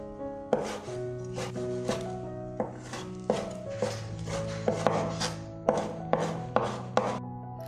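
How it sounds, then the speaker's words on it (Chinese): A knife dices chicken breast strips into cubes on a cutting board, giving a brisk series of about a dozen crisp, close chops over soft tonal background music. "鸡胸肉切条再切丁。"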